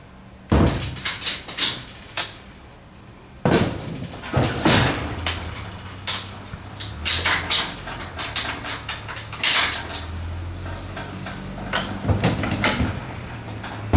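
Metal stable stall doors are lifted onto hinges and pinned in place, producing a series of sharp bangs, clanks and rattling knocks at irregular intervals, close and loud, with brief quiet gaps between.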